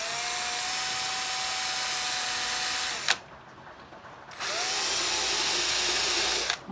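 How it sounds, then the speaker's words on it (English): A power drill whines steadily at high speed while drilling a hole through tin, stops briefly, then spins up again and runs on, loud and close. "So now I need to drill a hole where we marked the mark before."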